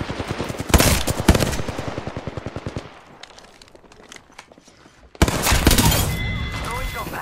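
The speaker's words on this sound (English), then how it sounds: "They're shooting." Apex Legends firefight: sustained fast automatic bursts hammer loudly for a few seconds, pause into quieter scattered shots, then a heavy burst of fire erupts again close up.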